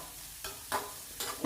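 Soaked soya chunks with vegetables and peas frying and being stirred in a pan: a soft steady sizzle punctuated by four scraping stir strokes, close and moderate in level, no voices.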